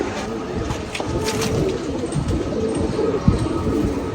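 Chinese pigeons coo softly at a home loft, low murmuring calls over a broad hiss of background noise, with a brief louder knock near the end and no clear talking.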